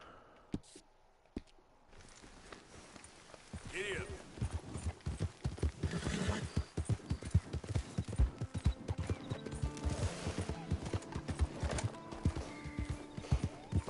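A horse's hooves clip-clop steadily while riding in Red Dead Redemption 2, starting after a few sparse clicks and building into a loud, continuous galloping rhythm, with a whinny or snort mixed in and someone talking.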